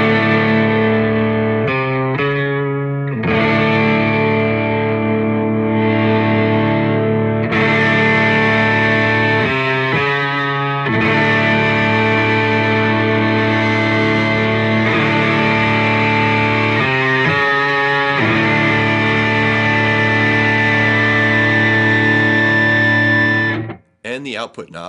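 Loud, sustained distorted electric guitar chords played through a Soundblox Multiwave distortion pedal ring out with thick fuzzy tone, briefly choked between strums, ending in a sudden cutoff.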